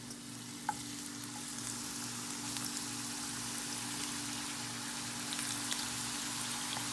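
Tortillas frying in a pan for chilaquiles in green salsa, a steady close sizzle and crackle with a low constant hum underneath, no talking.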